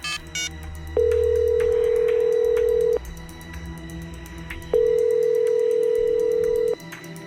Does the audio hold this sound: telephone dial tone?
yes